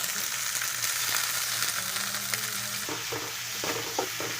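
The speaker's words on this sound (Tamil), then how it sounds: "நல்லா வதக்கி விட்டுக்கலாங்க." Onions and red chillies sautéing in oil for tamarind rice: a loud, continuous close-up sizzle with soft stirring scrapes toward the end and no talking.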